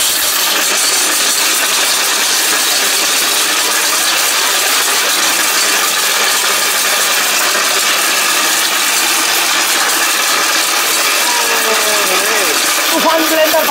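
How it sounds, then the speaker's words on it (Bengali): A Tufan electric blender runs at full speed, its motor giving a loud, steady, unbroken whine and roar for the whole stretch, close up. "তুফান ব্লেন্ডার ভাই, তুফান ব্লেন্ডার, এটা পাগলা ব্লেন্ডার বলে।"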